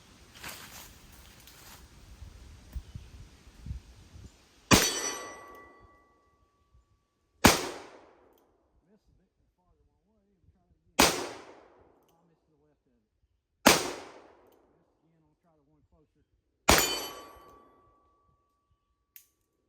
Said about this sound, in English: Let's try to shoot some steel and see how that goes.